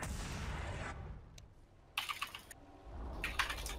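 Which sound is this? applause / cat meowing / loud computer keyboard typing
loud computer keyboard typing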